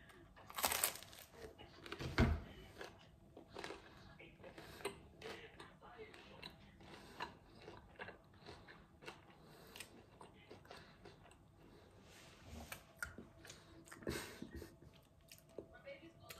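Someone bites into fresh, crunchy French bread spread with Nutella, giving a sharp crackling bite followed by soft, irregular chewing, faint and close, with talk in between.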